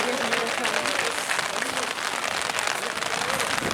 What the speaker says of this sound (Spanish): O sea, llueve así como de frente